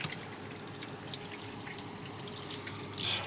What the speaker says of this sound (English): I run the thing under a tap